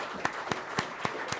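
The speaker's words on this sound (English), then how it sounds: "let's give her another round of applause" A handful of sparse, separate claps at a school governing board meeting, about five slow, evenly spaced hand claps close by in a quiet room.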